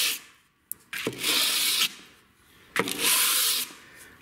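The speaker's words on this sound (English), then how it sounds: "draw filing the edge of our blade" A knife blade draw-filed along its edge against sandpaper, making two long, bright rasping strokes, each about a second long, separated by brief pauses and heard up close.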